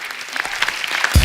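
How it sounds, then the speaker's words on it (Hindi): A studio audience at a comedy talk show breaks into steady applause, dense clapping heard at moderate distance for a short burst, ending with a low thump. "तो एक बार जोरदार तालियां हो जाए"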